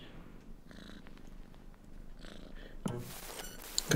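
A prankster cat purring softly in a video game demo, a low steady rumble near and faint, with brighter noisy sounds swelling toward the end.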